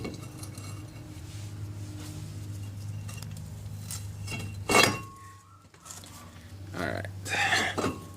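A car's brake rotor being fitted onto the spindle makes a couple of sharp metallic clinks and clanks, separated by a quiet low hum, close by.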